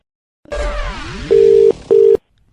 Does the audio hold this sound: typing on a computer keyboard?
no